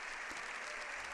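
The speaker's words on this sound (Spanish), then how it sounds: "largo aplauso al Papa León XIV" Long, even applause from deputies in the Spanish Parliament for Pope Leo XIV, heard faint and distant as a smooth wash of clapping.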